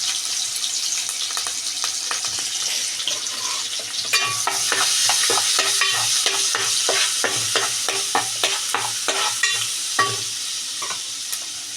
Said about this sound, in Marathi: आलं लसूणची पेस्ट जे तेल राहिलं त्याच्यातच आपण परतून घेणार आहोत